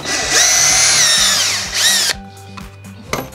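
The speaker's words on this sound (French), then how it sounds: "Refaire toute une série de tasseaux pour visser sous mes tasseaux actuels." A power drill drives screws into wooden battens under a camper van roof: a loud, close whining run that sags and picks up again, then stops abruptly, followed by a brief clatter and a short final burst.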